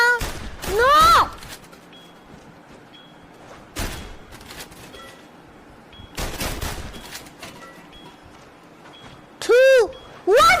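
Sharp bursts of gunfire from a VR shooting range video game break out at separate moments, some with clustered shots and ringing metallic tones like tins being hit, between stretches of quiet game ambience while a player reacts.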